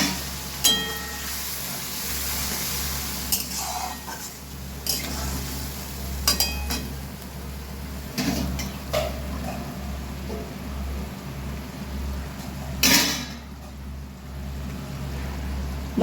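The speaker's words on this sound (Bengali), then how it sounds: "এবার আমি আরও কিছুক্ষণ কষিয়ে নেব।" A chili and turmeric spice paste for bhetki fish curry is stirred in a pan with a little hot water, bringing soft sizzling under repeated clinks and scrapes of a spoon against metal, with no speech.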